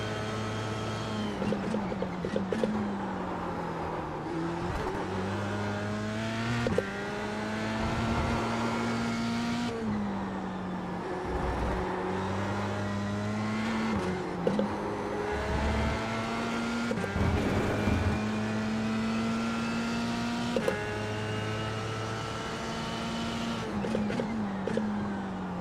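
Open-wheel race car engine in the iRacing sim runs loud and steady throughout, with high whining harmonics that rise and drop through repeated gear changes, plus brief tyre squeals.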